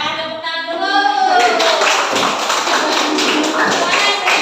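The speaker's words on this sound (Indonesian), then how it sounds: "tepuk tangan dulu" A class of students claps hands together in a classroom, a burst of brisk, close clapping that follows a short stretch of a voice speaking and then continues steadily.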